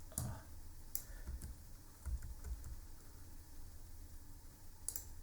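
A computer keyboard is tapped in a few sparse, quiet clicks, irregular keystrokes spread over several seconds against faint background noise.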